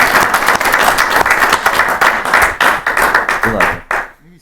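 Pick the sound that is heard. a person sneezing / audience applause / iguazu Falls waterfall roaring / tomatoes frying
audience applause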